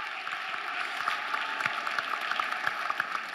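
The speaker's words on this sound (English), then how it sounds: "please have a big round of applause for one and only one, Padma Shri T.N. Manoharan sir" Conference audience of students in Ahmedabad applauds as a guest speaker is welcomed, soft distant clapping over a steady hall hum, fairly faint throughout.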